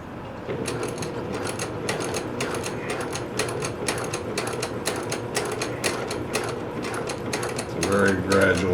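A sewing machine stitching a dart runs in a fast, continuous mechanical clatter up close, with short pauses and a brief louder burst near the end.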